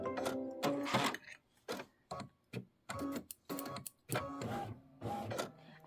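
A Kimberbell embroidery project being stitched on linen with a 70/10 needle as an embroidery machine sews a tack-down, with rhythmic mechanical whirring and clacking in bursts separated by brief pauses, loud and close.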